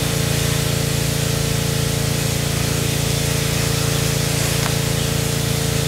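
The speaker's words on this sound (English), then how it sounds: "my neighbor's got his compressor going and there's a lot of noise" A neighbor's air compressor runs continuously in the background during an RC airliner build, giving a steady, fairly loud mechanical hum and rumble that fills the whole stretch with no talking.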